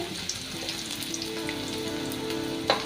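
Chopped ginger and garlic fry in oil with fennel and cinnamon for Kerala-style chicken curry, giving a steady, close, rain-like sizzle with a sharper crackle near the end and no talk.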